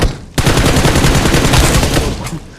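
Sustained burst of automatic gunfire in the video game PUBG Mobile, loud and close, starting abruptly after a brief pause and rattling on in rapid repeated shots.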